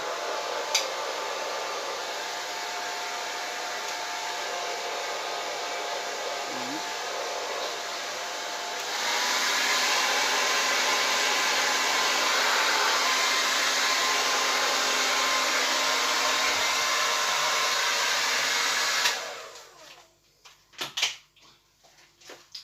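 A newly gifted hair dryer blows in a steady, close whoosh that steps up to a louder setting partway through, then cuts off near the end, followed by a few handling clicks.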